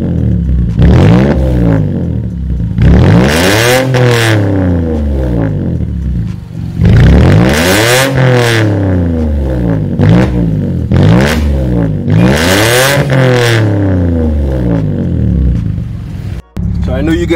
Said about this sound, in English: So let me just rev it for you guys, and you get a listen of it.